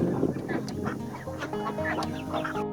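Nearly full-grown Pekin ducks, about 38 days old, keep up a busy chorus of honking quacks from a large flock close by, with overlapping calls throughout.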